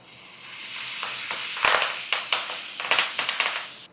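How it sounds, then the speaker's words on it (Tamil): Cinnamon, cloves, fennel seeds and curry leaves hit hot oil and sizzle, rising to a loud crackle with sharp spattering pops and stirring scrapes, close up and without talk. "இப்போ நம்ம இந்த பட்டை, லவங்கம், சோம்பு அதை போட்டுக்கலாம். கருவேப்பிலை போட்டுக்கலாம்."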